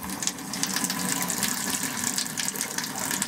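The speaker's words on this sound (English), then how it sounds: "So again, a swivel tap, so we turn the hot water on." Hot water gushes from a swivel tap in the bathroom of a 1995 Abbey 416 Vogue GTS touring caravan. The splashing flow is steady and close, with small spurts throughout and no speech.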